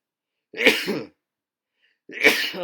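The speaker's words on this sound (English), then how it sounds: "Sorry about the sneeze." Two sharp, explosive bursts about a second and a half apart, close and loud, a sneeze and a follow-up sneeze or cough, with silence between.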